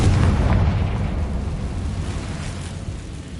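A Confringo blasting curse explodes in the Hogwarts Legacy video game, a loud, heavy boom that opens the clip and slowly fades into a rumbling decay.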